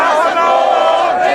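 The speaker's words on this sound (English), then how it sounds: "It's a roar of sound because everyone's so excited and they're singing songs of the revolution and they're shouting slogans." A dense roar of an excited crowd at a Cairo revolution celebration, with many voices shouting slogans and singing together, loud and continuous throughout.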